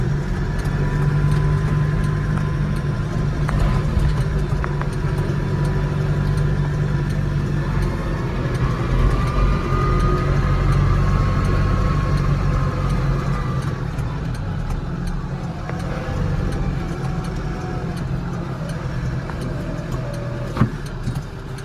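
A Landini 5-120rs tractor engine runs steadily for over twenty seconds, a loud constant low rumble with a faint drifting whine and no talking.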